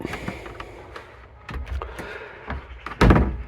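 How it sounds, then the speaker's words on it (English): A galley cabinet door swings shut in a boat lounge under refit, a few soft knocks and bumps leading to one louder, close thud near the end. "I'm not liking the way that door is shutting in front of it like that."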